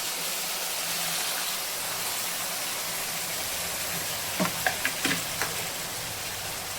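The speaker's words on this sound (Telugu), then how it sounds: "ఉల్లిపాయలు ఇలా వేగితే సరిపోద్ది" Sliced onions fry in oil in a pan for a fish curry, giving a steady soft hiss with a few faint clinks of a utensil near the end.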